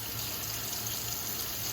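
Tap water runs steadily into a sink while potatoes are washed, a constant close hiss and splash of flowing water with no breaks.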